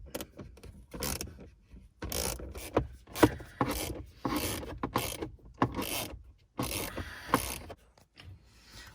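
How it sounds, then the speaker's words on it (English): A small socket ratchet loosens 6mm bolts inside a Ford F-150 door panel, its rapid clicking coming in repeated close bursts with brief pauses. "There's 2 bolts. They're 6mm. So just get a little socket"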